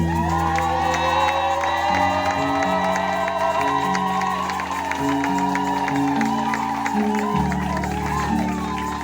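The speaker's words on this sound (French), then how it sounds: "Est-ce que quelqu'un peut crier fort pour Jésus" A church congregation shouts loudly for Jesus at a French-language service on baptisms and the laying on of hands, a sustained crowd roar of cheers and whoops over steady music that stays loud throughout.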